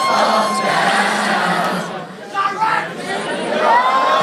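Rowdy crowd at a live hip-hop concert at Velvet Jones, a dense roar of chatter and shouting with scattered cheers that dips briefly midway and swells again near the end.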